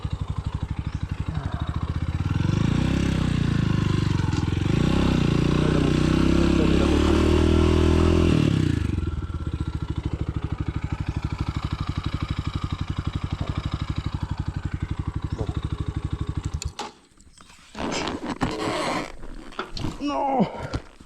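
A motorcycle with its rear wheel stuck in mud in Vietnam revs loud and close under strain, holds a steady idle, then cuts out to scraping and clatter.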